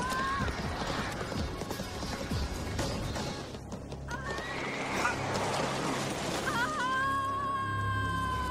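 A horse clip-clops and runs, with clattering hooves and loud neighs and whinnies near the end. Voices speak briefly during the commotion.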